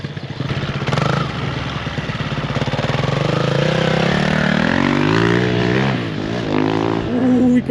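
Motocross dirt bike lapping corners on a real cross track, its engine revving loud and steady throughout with rising and falling pitch as it accelerates, no talk over it.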